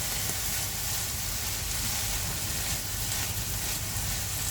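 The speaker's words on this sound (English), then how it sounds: "the cranberries will also kind of plump up as they cook in the oil" Cranberries and broccoli frying in oil in a pan, a steady broadband sizzle and hiss that stays loud and even throughout, with no voices over it.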